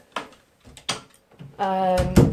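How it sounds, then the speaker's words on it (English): Door being closed indoors, a few soft knocks and rattles leading into a creaking swing and a solid thud at the end, close by. "So I'm just going to close this door."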